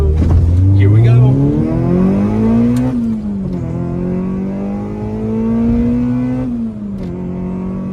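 Honda CRX with a swapped B-series engine pulling hard through the gears, the engine note climbing in pitch, dropping at each shift and rising again, loud and close throughout.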